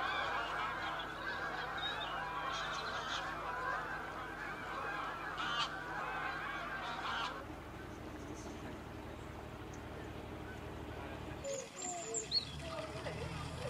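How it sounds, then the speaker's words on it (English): A flock of swans calls on a canal with repeated honking cries, fairly close, over a steady boat engine hum. A person talks partway through. "A flock of swans."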